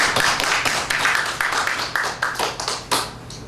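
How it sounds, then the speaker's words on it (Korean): A church congregation applauds with dense, steady clapping that carries on for a few seconds, then thins out and fades toward the end. "박수 한번 칠까요?"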